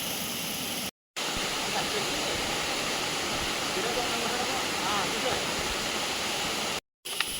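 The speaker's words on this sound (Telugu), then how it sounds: "ఎరకలపాలెం వాటర్ ఫాల్స్కి వచ్చామండి" Erakalapalem waterfall roars as a constant broadband rush of falling water, steady and fairly loud, broken by two brief silent gaps.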